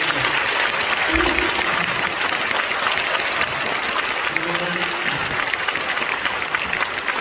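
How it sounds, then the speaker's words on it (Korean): Sustained, loud applause fills a hall as a church gathering honors Korean War veterans at a commemorative prayer service, the clapping dense and unbroken throughout with a few faint voices underneath. "귀한 어르신들을 위하여 우렁찬 박수를 해주시기"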